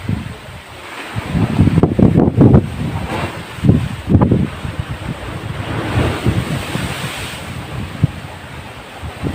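Rough sea waves at Fortune Island surge and splash close by, heavy wind buffeting the microphone as bursts of spray crash in irregular surges.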